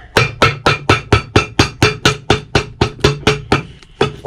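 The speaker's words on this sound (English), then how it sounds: "Go ahead and hammer this all down." Hammer striking a boot sole and midsole being fitted onto BMW riding boots during a Vibram resole, about sixteen sharp, close, evenly paced blows in a steady rhythm with no talk.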